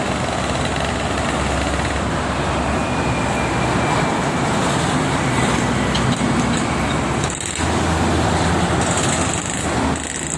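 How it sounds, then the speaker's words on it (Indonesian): Busy Jakarta–Cikampek toll road traffic with many big trucks, a loud continuous roar of engines and tyres with passing vehicles swelling by, heard from close to the roadway. "Banyak truk gede."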